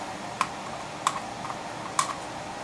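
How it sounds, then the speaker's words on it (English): Cutters snip the legs of electronic components while an old Fultron amplifier is repaired, giving three sharp, isolated clicks spaced irregularly over a quiet background, close and crisp. "snip the legs"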